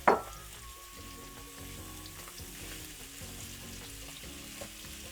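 Chopped sausages fry in hot olive oil in a pan, a steady close sizzle and crackle that starts with a sharp hiss as they go in, with light stirring scrapes.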